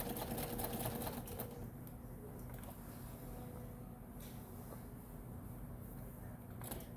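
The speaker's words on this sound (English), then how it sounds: "Sew across make sure the fabric is lined up on the edge" A sewing machine stitches bag fabric for a double-pocket bag, a faint, steady mechanical running hum that continues evenly from start to finish.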